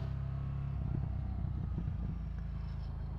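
A 2023 Ducati Scrambler motorcycle engine rumbles steadily and close, a deep continuous idle-like drone with slight fluctuations throughout, no voices.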